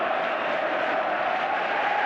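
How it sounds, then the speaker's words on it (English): A large football crowd at a Fulham match chants in unison, a dense, continuous roar of many voices heard from a distance with no individual words standing out. "staying up is the cry from the baseball crowd"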